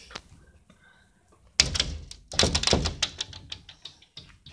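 Double office doors swing shut with a loud thump followed by a burst of rattling and clattering as the handles are shaken, close by in a quiet room.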